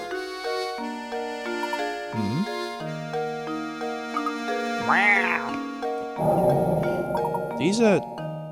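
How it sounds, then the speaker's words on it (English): A cat in the game Professor Layton and the Curious Village meows in a few rising, whiny calls over steady synthesized background music, with a loud final meow near the end. "Oh, there's a cat."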